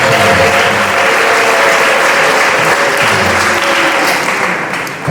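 A church congregation applauds during a Sunday worship service, sustained loud clapping from many people filling the room evenly and fading slightly at the end.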